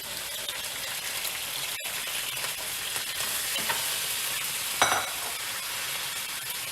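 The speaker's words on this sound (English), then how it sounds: "Get my apples into the pan." Apples go into a hot pan just after pork has been seared in it, giving a steady, fairly quiet sizzle with a brief stirring flare near the end.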